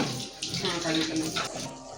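Water runs from a kitchen tap while dishes are washed, a steady splashing stream at close range, with a faint voice in the background.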